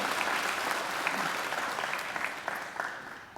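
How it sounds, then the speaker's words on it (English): A graduation ceremony audience at Macquarie University gives a sustained round of applause, a dense steady clatter of many hands that fades slightly near the end, with no talking over it. "I think he deserves another great round of applause."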